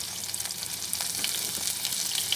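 Half-cooked mung beans sauté in a pan with a bright, steady hiss of sizzling oil and a few faint stirring scrapes, close up with no voices.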